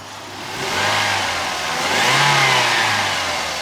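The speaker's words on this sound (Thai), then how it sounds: "ยกขึ้นนะเร่งเร่งเครื่องดู อ่าเร่งเครื่องก่อนก็ได้" A 2004 Toyota Vios 1500 cc VVT-i engine revs up loudly, rising in pitch, easing slightly, then revving again in a second strong surge, heard close by with no talking.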